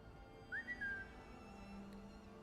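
A character in the Skyrim video game whistles for a companion, giving one short rising-then-falling whistle that is faint and clean against a quiet background.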